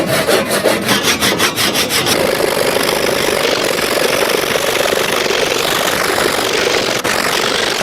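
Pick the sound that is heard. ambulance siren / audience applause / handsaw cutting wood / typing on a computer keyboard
handsaw cutting wood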